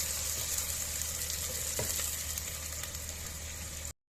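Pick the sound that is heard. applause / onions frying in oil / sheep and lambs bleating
onions frying in oil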